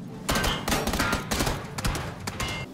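Gunfire in the video game PlayerUnknown's Battlegrounds: rapid bursts of automatic shots with heavy booming thumps, coming in several loud volleys separated by short pauses.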